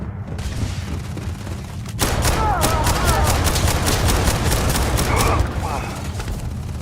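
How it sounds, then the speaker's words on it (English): Rapid bursts of gunfire from the space game Starfield, a dense fusillade of shots with booming impacts that grows louder midway and keeps going, under the player's occasional talk. "everyone's shooting at me from there"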